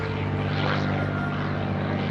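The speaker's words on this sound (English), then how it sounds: "The airplane climbing now through the vertical" P-51D Mustang climbing through the vertical at an airshow, a steady droning propeller engine with a buzzing harmonic tone, sustained and fairly close, no talk.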